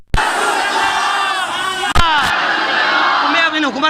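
A large crowd shouts a religious slogan in unison in reply to a preacher, loud and sustained across the whole stretch, with a sharp break near the middle before the voices surge again.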